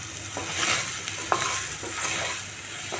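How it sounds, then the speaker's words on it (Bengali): Soybean chunks coated in salt and turmeric sizzle in hot oil up close while a spoon stirs and scrapes the pan a few times, no voices. "আলু ভাজার তেলেতেই আমি সোয়াবিনটা নুন হলুদ মাখিয়ে রেখেছি না ফ্রাই করে নিচ্ছি"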